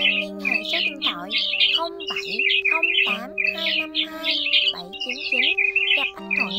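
A white-headed migratory starling sings a recorded song of continuous high chattering phrases, whistles and rapid twittering bursts, loud and close, with a steady underlying tone running throughout.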